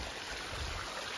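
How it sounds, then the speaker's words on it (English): Water in a mountain creek in Johnson Canyon, North Kananaskis, flows with a steady, even rushing wash, close and continuous, with no voices. "This is a creek."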